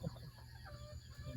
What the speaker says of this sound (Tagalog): Maingay na yung mga manok natin mga lods. Kasi gutom na ata sila.